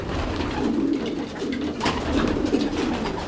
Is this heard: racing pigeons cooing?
yes